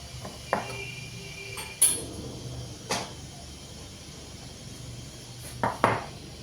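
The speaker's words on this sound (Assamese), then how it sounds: "এতিয়া মই কেৰাহীটো ধুনীয়াকৈ পাতি দিওঁ" A karahi (wok) and other kitchen items clank down on a surface in several separate metallic knocks and clatters, with quiet pauses between them.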